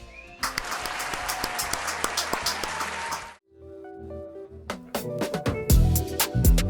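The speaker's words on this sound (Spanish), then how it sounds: "Un aplauso." Applause from an audience at the Crononautas 20 show, dense clapping for about three seconds that cuts off abruptly, then a short musical sting and more clattering hits.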